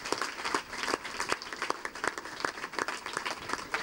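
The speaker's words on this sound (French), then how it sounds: "Acclamons très fort pour elle." An audience claps and cheers for a school's founder during a school visit event, a steady burst of applause from a crowd, fairly close and continuous.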